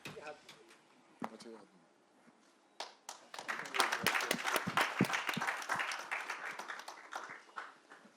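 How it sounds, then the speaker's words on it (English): Applause from an audience welcoming a guest onto a stage at a film campaign premiere, starting as scattered claps and swelling into steady, fairly close clapping that fills the second half. "Round of applause to welcome him, please."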